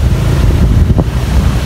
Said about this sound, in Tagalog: Oh, grabe ang alon.